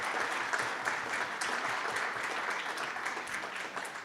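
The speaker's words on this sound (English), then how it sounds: "So, round of applause for our panelists." A conference audience applauds panelists at a summit session, even continuous clapping at moderate distance that runs throughout and eases slightly toward the close.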